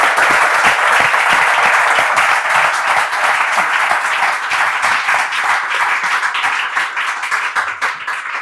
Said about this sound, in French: Avec nos applaudissements, on reçoit notre tante.